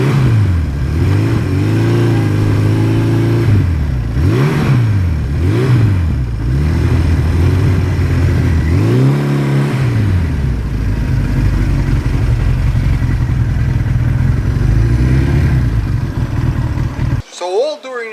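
A 1982 Suzuki GS1100E motorcycle engine pulls loudly and steadily while riding, its pitch climbing and dropping through several rev swells before a brief cut near the end, with a voice talking over it.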